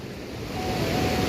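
The Jarkul river flows past a village as a steady, broad rush of water, close and continuous, mixed with some wind buffeting across the mic.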